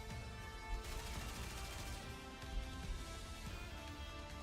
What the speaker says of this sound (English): Rapture fires a barrage of bullets.